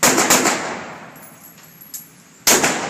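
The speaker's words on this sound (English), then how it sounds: "Now you will see how I am holding the pistol while discharging it." A pistol is discharged in two loud, sharp reports about two and a half seconds apart, close by, each followed by a fading ring, with no talking.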